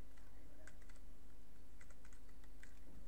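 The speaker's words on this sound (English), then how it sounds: "go to properties and type in the text calculator" Soft clicking of keys on a computer keyboard, a few short clustered bursts of keystrokes, faint against a steady background hum, with no speech.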